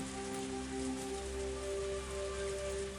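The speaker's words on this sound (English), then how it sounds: "a torrential downpour started, as though trying not to disappoint him" Heavy torrential rain pours steadily in the Higurashi visual novel, a dense continuous hiss with a low rumble and faint steady tones beneath, loud and unbroken throughout.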